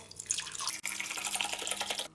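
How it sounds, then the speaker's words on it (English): White vinegar pours from a cup into a washing machine drum, a steady liquid splash and trickle heard close up and alone for about two seconds. "Then pour a cup of white vinegar"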